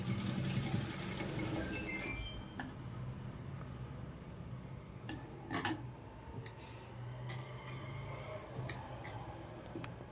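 A sewing machine runs in short bursts while stitching the piping on a cross-cut blouse, a low mechanical whir with rapid ticking and scattered clicks, close by and fairly quiet with no talk.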